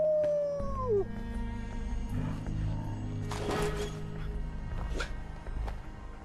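In Fallout 4, the companion dog Dogmeat lets out a drawn-out howl that sweeps down in pitch, followed by softer yips and whimpers over a steady low game ambience.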